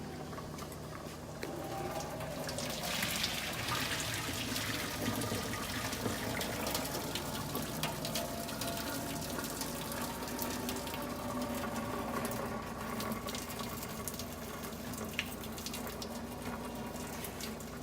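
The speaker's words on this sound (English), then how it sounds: "This is how you get rid of the water." Water drains out of a pot of cooked pasta in a continuous gushing, splashing pour, steady and fairly quiet, lasting the whole stretch with no talking.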